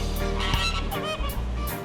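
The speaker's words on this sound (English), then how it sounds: "The flamingos are chirping" Flamingos at SeaWorld San Diego call in a dense, overlapping chorus of nasal, goose-like honks, loud and continuous for the whole stretch with no voices.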